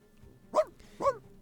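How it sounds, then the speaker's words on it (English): Two quick dog barks sound from a distance in the video game Reverse: 1999, spaced about half a second apart over a low background hum. "hears the barking of dogs in the distance"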